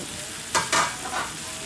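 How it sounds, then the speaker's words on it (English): Veal Marsala sauce simmers and sizzles in a pan, a soft steady hiss lifted by a few brief louder bursts of stirring or spattering close by, with no voices. "let that simmer just like that"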